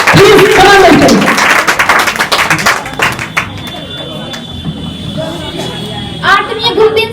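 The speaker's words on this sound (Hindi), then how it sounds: "तो तालियों से स्वागत करिए चांदनी यादव" An audience at a Republic Day celebration in a coaching centre claps to welcome a singer, a loud burst at first that thins into scattered claps, with talk and crowd noise mixed in.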